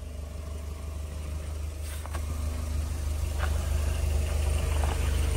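An all-terrain vehicle's engine idles on a winter ice road, a steady low rumble throughout with a few faint clicks and knocks on top, no talk.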